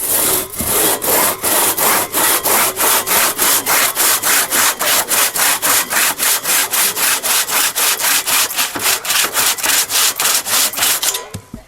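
A hand saw cuts through wood at an outdoor forest-day sawing contest, steady rapid back-and-forth strokes in an even rhythm, loud and close, continuing for about eleven seconds before stopping abruptly.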